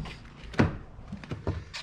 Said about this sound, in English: I'll quickly open the door and show you.